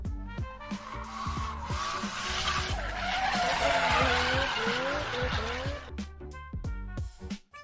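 Tires skid with a loud squeal and a racing car engine revs in a channel's intro jingle for a review of a Citroën Basalt compact coupe SUV, with the squeal running continuously for several seconds over rhythmic music-like pulses.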